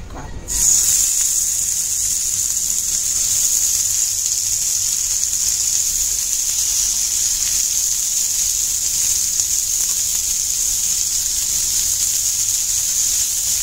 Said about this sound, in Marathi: मस्त दोन्ही बाजूनी कुरकुरीत आपण एकदम बारीक गॅसवर केलं तर छान असं कुरकुरीत कारलं फ्राय होतं